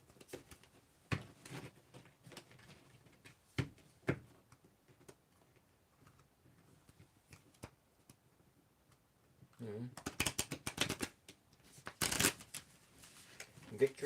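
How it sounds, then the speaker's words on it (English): Tarot cards being shuffled in several short bursts of riffling and flicking, close and fairly quiet, with a louder, busier flurry near the end; a voice talks softly in between. "Give it another little shuffle here."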